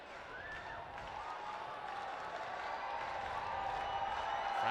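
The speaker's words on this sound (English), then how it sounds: "Friday night crowd trying to make their presence heard." Distant baseball stadium crowd on a Friday night, a steady murmur and faint cheering that swells slightly over several seconds, with no clear voices up front.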